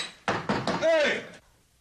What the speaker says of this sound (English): Hup Sing, will you open this door and let me in?